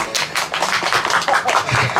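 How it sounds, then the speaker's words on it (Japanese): Sparse clapping from a small audience at an outdoor motorcycle event, a scattered patter of hands close to the recorder, uneven and brief. "まばらなこの拍手がいい感じですけど"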